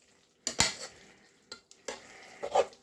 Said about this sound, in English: We literally coat every single inch of our pasta